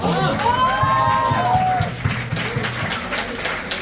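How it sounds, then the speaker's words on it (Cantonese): A live audience bursts into applause and cheering at a Cantonese talk show segment, a dense wash of clapping and voices that stays loud, then eases slightly while a voice carries over it. "大家俾掌聲"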